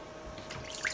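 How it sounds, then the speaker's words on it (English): Half a cup of cold water goes into a large bowl with a brief, close splash and dripping that swells near the end over faint room noise. "you have to get a half a cup of cold water and put it in a large bowl"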